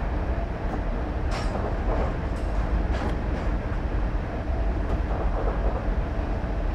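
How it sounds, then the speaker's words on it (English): An HST passenger train in Train Simulator 2016 rumbles steadily under a light step-one brake application on the Cardiff Central to London Paddington route, with a constant loud drone and faint clicks, and no voices. "I'm just making a step one brake application at this point, which should bring our speed down about right."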